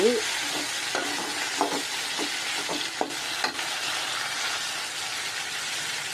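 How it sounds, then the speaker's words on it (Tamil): Steady loud sizzling of chilies and garlic sautéing in a hot pan for pickle, with occasional scraping and stirring sounds from a utensil. "இது மூணு போட்டு தான் வதக்கிறது"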